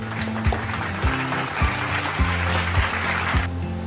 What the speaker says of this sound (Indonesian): Kita berikan tepuk tangan sekali lagi untuk teman-teman kalian yang sudah menjawab